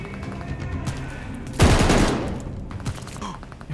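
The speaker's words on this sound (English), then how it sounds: "MG42." Burst of MG42 machine gun fire in the Call of Duty Vanguard video game, a sudden loud roaring stream of rapid shots that tails off over about a second, with scattered gunfire and battle noise before and after.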